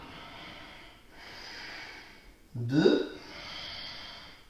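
Loud, sharp nasal breaths taken during a forward fold in an Ashtanga yoga sequence, long airy inhales and exhales with one forceful snort-like breath, while a voice counts in French.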